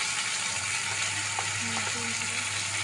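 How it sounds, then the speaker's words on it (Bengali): Chopped tomatoes are stirred lightly in a hot pan for a mustard fish curry, giving a steady, close broadband sizzle with a few faint scraping touches, no voices over it. "এবারে টমেটো কুচিগুলো দিয়ে দিলাম, দিয়ে হালকাভাবে একটু নাড়াচাড়া করে নিতে হবে"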